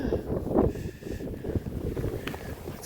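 Wind gusts across the microphone during a winter camping trip in the Boundary Waters wilderness, a rough, rumbling buffeting that lasts through the short clip.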